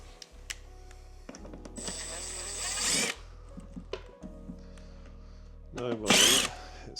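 Power drill whirring in two short bursts as it drives a small screw while a piano is being repaired, close by, with clicks and handling noises between the bursts.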